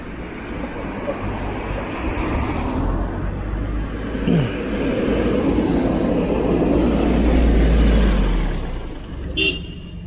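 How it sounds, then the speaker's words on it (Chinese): Street traffic with cars passing at a steady, busy rumble and a broad swell of engine and tire noise building and fading, heard from a vehicle on a crowded road. "路上明显感觉车多了哈，这路已经感觉到已经开始拥挤了。"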